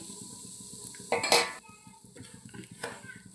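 Semolina being stirred into hot ghee in a metal pan, with a spoon scraping and clinking against the pan in a few loud bursts over a low steady background.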